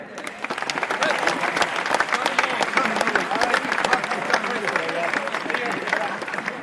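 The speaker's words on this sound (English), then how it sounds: "Can I just get a round of applause for our committee, please?" Sustained, lively applause from a sizable crowd at a junior Gaelic football final fills the whole stretch, many hands clapping at once with chatter and murmuring underneath.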